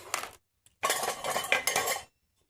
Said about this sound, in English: Let's mix them well here, just to make sure that everything is mixed well before I add the wet ingredients